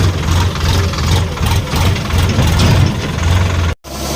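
Tractor engine idling near paddy threshing, a loud steady low rumble with a regular throb, cutting off abruptly near the end.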